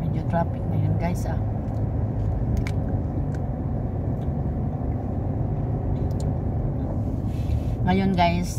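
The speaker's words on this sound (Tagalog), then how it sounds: "medyo traffic ngayon guys" Heavy stop-and-go road traffic heard from inside a moving vehicle: a continuous low, dense rumble with a few faint clicks and ticks scattered through it.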